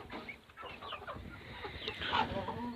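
Chickens cluck and chatter softly in a barn, with scattered close clucks over a low, faint background of farm noise.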